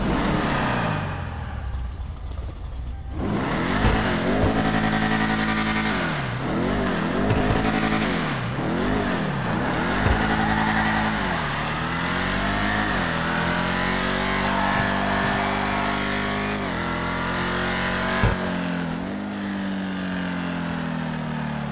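Dominator ASP car exhaust from GTA Online revs and roars up and down in repeated swells, then holds a long rising drone, loud and close throughout.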